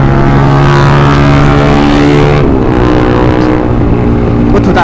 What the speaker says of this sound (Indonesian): tadi knalpotnya berisik banget